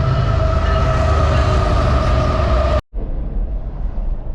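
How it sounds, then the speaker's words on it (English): A loud train rumbles past close by, steady and heavy with metallic tones, then cuts out abruptly and resumes as a dull, muffled roar heard from inside a car. "that train is loud"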